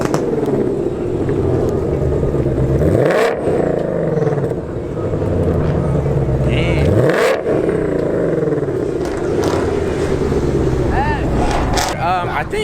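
Ford Mustang GT500 cars at a car meet rev their engines and pull away, with repeated rising engine roars and accelerating passes, close and loud, while people talk nearby.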